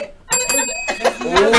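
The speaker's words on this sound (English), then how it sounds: "Can I get a bell?" A bright bell-like ding rings out as a sound effect on a radio show, quickly followed by a few brief repeated chimes and a short burst of chatter.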